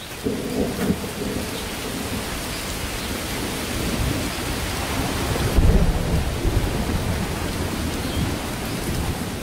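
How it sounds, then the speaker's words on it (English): Heavy torrential monsoon rain pours down in a dense, continuous roar, with low thunder rumbling beneath it and swelling midway. "But July arrives, and with it, torrential rain."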